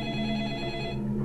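A telephone rings in the video game Deadly Premonition, a clear electronic bell tone that holds steadily and then cuts off near the end, with no talking over it.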